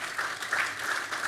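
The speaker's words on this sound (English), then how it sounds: "Please give them a round of applause." A short burst of steady audience applause for two experts at a business panel on sustainable international trade, moderately loud, even clapping with no pause.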